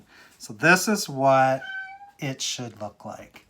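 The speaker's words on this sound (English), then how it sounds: "That is my cat in the background wanting to come in and get into" A pet cat meowing insistently to be let into the room, several drawn-out meows in the background behind someone speaking.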